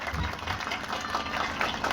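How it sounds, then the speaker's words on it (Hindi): A village crowd in Bhikhansar gram panchayat claps loudly to welcome a politician, a dense, steady wash of applause with no pauses. "जोरदार तालियां"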